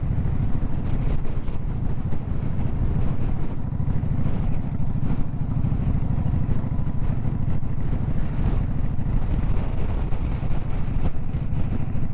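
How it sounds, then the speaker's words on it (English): Steady, loud wind buffeting on a windy day during a Yamaha V Star 650 motorcycle cruise, with a low rumbling roar that persists throughout, no voices, and an engine droning underneath. "It's a windy day."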